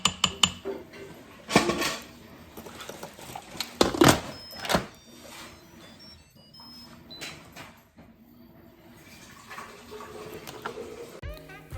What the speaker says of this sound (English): sister's gonna finish up these dishes